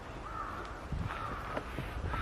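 A few harsh crow caws ring out at a moderate distance, spaced irregularly over steady outdoor background noise on Jeju Island.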